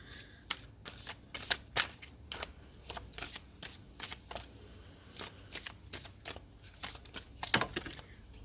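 A deck of oracle cards being shuffled and handled, giving a run of quick, crisp card flutters and snaps in uneven bursts, close and fairly quiet, with no talking.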